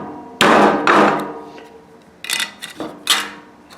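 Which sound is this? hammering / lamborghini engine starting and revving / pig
hammering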